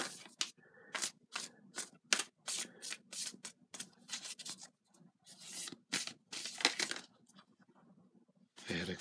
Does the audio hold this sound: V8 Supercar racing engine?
no